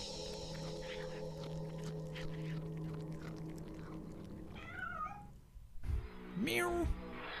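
A cat meows in the 1996 video game Bad Mojo, a couple of short rising cries near the end after a stretch of game ambience and speech.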